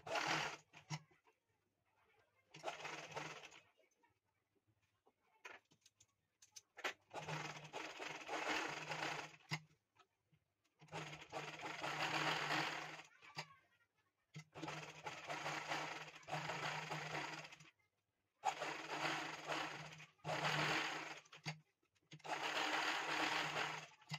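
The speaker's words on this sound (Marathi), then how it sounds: "आता आपण कडेने शिलाई मारायला नंबर मोठा करून घेऊया म्हणजे फक्त शिलाई मारायची असते" Sewing machine stitching the side seam of a blouse, running in steady bursts of a few seconds each, separated by short quiet pauses, close and clear with no talk.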